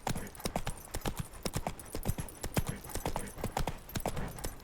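Hooves of Roach, Geralt's horse in The Witcher 3: Wild Hunt, a steady rhythmic clip-clop of trotting close by, each hoof strike crisp and distinct, carrying on without a break.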